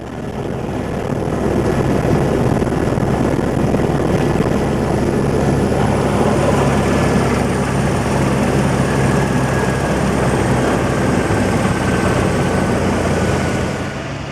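A helicopter lands on a small-town football field in Aperibé, its loud, continuous rotor and engine roar holding steady and close throughout with no voices heard.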